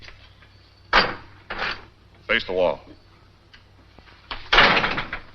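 A wooden door is kicked shut with a sharp thud and rattle amid a few other knocks and bumps in a quiet room, while someone speaks briefly.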